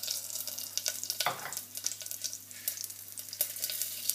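Cumin seeds dropped into a little hot oil in a pan, a close, crackly sizzle of fine bursts and pops running steadily throughout with a brief louder rush near the start.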